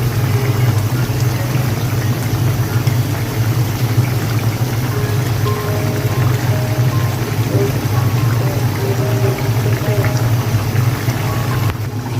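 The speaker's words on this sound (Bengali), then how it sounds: "এখন আমি এই ঝোলটা সম্পূর্ণটা এর মধ্যে দিয়ে দিচ্ছি" Fish curry broth for hilsa with ash gourd is poured into a cooking pot as a steady, unbroken rushing and bubbling wash that lasts throughout, close and fairly loud.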